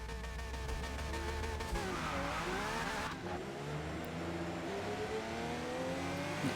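A Porsche race car in Forza Motorsport revs hard around Circuit de la Sarthe, its high, buzzing engine note climbing, dipping sharply and rising again, loud and continuous.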